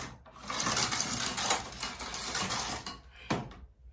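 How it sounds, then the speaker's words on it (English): Sewing machine carriage run across a fabric piece for a dress after the thread is removed, a steady close whirring mechanical hum lasting several seconds with a couple of sharp clicks near the end. "So I'm going to just remove my thread and run the carriage across"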